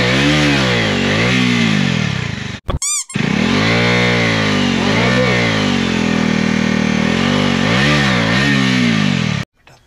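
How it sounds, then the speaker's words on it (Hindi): A BMW G310 RR motorcycle revs hard through a failed burnout, its engine wailing loudly at close range in rising and falling sweeps, briefly cutting out once before roaring again and stopping at the end. "ये है फेल बर्नआउट, ठीक है बिल्कुल ही फेल बर्नआउट"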